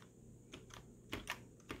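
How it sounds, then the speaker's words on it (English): Keys tapped on an MFtek computer keyboard, a few sparse, quiet clicks spread over under two seconds, close by with a faint hum underneath. "can you type something?"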